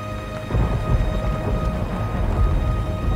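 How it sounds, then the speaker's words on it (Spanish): Steady rain with low rumbling thunder underneath in the video game Resident Evil 4 Remake, a continuous wash of noise that swells slightly after the first half second. "Oh, está lloviendo."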